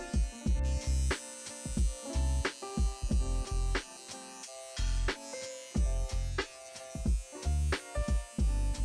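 A tattoo machine fitted with a 1-liner needle buzzes steadily as it cross-shades skin on a face tattoo, starting and stopping in short regular bursts under a backdrop of music.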